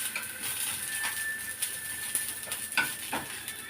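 Green chillies sizzle and crackle in a hot pan, a soft steady frying hiss broken by brief sharp spits and occasional scrapes of a spoon, close and fairly quiet.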